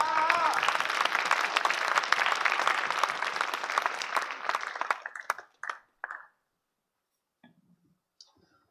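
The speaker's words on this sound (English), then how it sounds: "Round of applause." Applause from an audience at a school arts festival's final performance, a loud burst of clapping that fades away after about five seconds, leaving a few last scattered claps and quiet.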